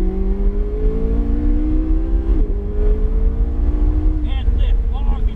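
A McLaren 570S on a race track revs hard under acceleration, its engine note climbing steadily and loud up close, dipping briefly during a gear change before rising again. Later a tire squeal cuts in over the roar.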